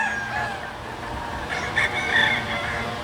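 Gamefowl broodstag rooster crowing at a farm, a moderately distant crow rising over a steady outdoor background hum, with faint clucking and other fowl around.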